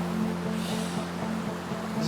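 Rushing water from a waterfall makes a constant, even roar that holds steady throughout, with a low droning hum running underneath.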